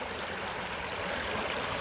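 Creek water flowing in Indiana, recently thawed from ice, as a steady close broadband rush with no breaks. No voices.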